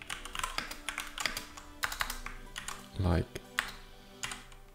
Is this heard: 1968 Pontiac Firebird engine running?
no